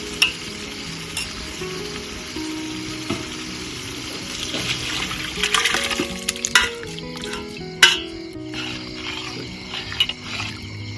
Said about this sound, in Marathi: आता आपण उरलेलं सूप त्यात टाकून घेऊ